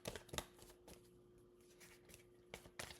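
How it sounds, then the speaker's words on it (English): Playing cards are shuffled close by, in soft riffling bursts at the start and again near the end, with quieter handling between them and no talking. "I don't even know how to shuffle these anymore"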